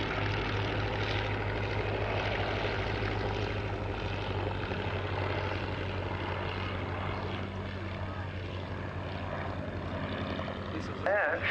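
A Fieseler Storch liaison aircraft with its original 240 hp inline Argus engine flies at an airshow, a steady droning propeller and engine roar held throughout at moderate distance, with a voice speaking over it.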